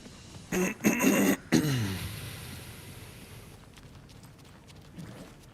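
A person coughs a few times in a quick close cluster, followed by quiet ambient background from a livestream of the game Alan Wake 2.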